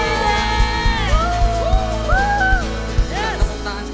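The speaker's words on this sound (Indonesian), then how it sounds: "Give a big shout for Jesus." A church congregation shouts and whoops for Jesus during worship, a crowd of raised voices with rising cries over a steady beat of music and thumping rhythm.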